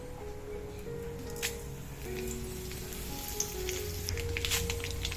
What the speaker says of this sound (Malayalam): അതിലേക്ക് വെളിച്ചെണ്ണ ചേർത്ത് കൊടുക്കാം കടുക് വറ്റൽമുളക്